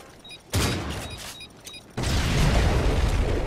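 A bomb goes off in Call of Duty MW3: a short burst at first, then after a brief pause a loud, sustained explosive roar fills the rest of the moment with heavy low rumble.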